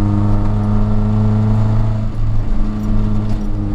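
A Nissan 240SX S13's aftermarket exhaust drones steadily from inside the car on a canyon road, a loud low rumble with sustained engine tones that dip slightly and recover as the driver holds the throttle.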